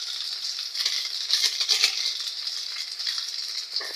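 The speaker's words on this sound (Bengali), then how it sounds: "মশলাগুলো দিয়ে ভালো করে নেড়ে চেড়ে নেব, এতে সবগুলোর গায়ে ছড়িয়ে যায়।" Pasta stirred in a hot pan with ready-mix masala spice, giving a continuous close hiss of sizzling with soft scraping strokes from the stirring, and no talking.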